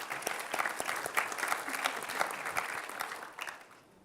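Audience applause for a presenter at a health presentation event, sustained clapping from a sizeable crowd for about three seconds, then fading away at the end.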